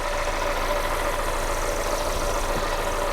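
A wrecked 2019 Mercedes A35 AMG sits idling, a steady, even engine drone with a slight blowing, whooshing quality running unbroken and alone for the whole stretch.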